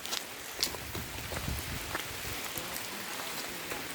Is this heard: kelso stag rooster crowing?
no